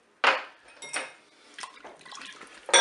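A spoon stirs rice pudding in a Cookeo pot, giving a few sharp metallic scrapes and clinks against the pot with soft wet sloshing between them, close and fairly loud.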